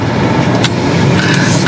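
A BMW F30 320i sedan pulls away, its engine humming steadily and close with a brief rise in revs as it drives off, no voices present.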